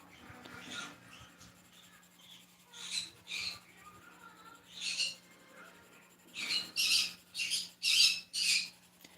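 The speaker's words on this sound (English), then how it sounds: "My birds are being difficult once again." Pet birds squawk indoors in a string of loud, harsh bursts, scattered early and then bunched into rapid repeated calls near the end, close to the listener with no talking.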